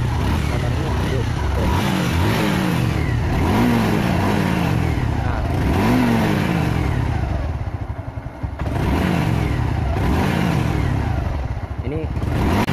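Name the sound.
Supra X 125 fi motorcycle engine running and revving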